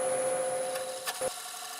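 A wood lathe spins a stacked wood blank at about 750 RPM, giving a steady tonal whine with a faint rubbing hiss and a couple of brief scraping contacts, close and without talk.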